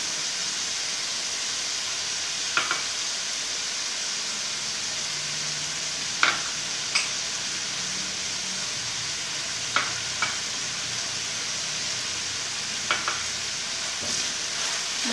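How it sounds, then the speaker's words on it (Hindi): Chicken mince and spices fry in a pan, giving a steady, close sizzle with occasional scraping clicks as a spoon stirs the mixture. "और मसालों को भी थोड़ी देर पकाएंगे"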